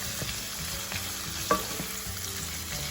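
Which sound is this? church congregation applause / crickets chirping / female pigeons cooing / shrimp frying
shrimp frying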